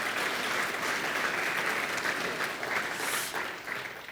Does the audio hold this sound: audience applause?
yes